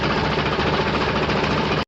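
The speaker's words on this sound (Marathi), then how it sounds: "ट्रॅक्टर चालू झालेला आहे" A tractor engine idles steadily with a dense, continuous rumble and vibration, loud and close, before cutting off abruptly at the end.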